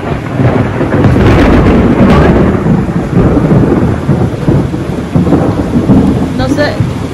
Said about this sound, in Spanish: Cae unos truenos y oigo que chilla algo.